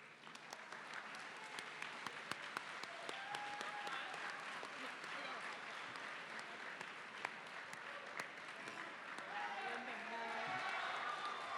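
An audience applauds at a Science Olympiad invitational awards ceremony, with sustained, fairly distant clapping that keeps an even level throughout and a few sharper claps standing out.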